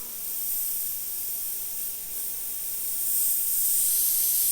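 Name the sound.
airbrush spraying paint through a 0.2mm needle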